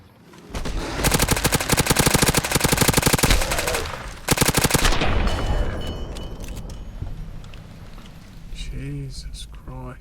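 Rapid automatic gunfire from the video game Fallout New Vegas rattles in two loud sustained bursts, followed by scattered shots and game effects while someone talks over it.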